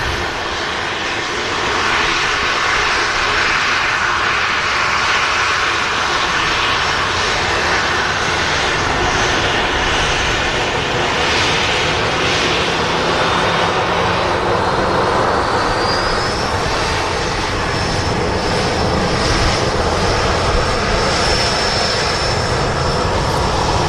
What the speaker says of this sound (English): Aircraft sound is slightly better